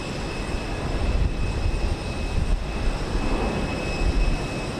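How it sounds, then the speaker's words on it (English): An American Airlines Airbus A320 jet at Houston Intercontinental gives off a steady, broad engine roar with a faint whine, fairly constant in level throughout. "We have American Airlines flight 2578 on its way to DFW, an Airbus A320."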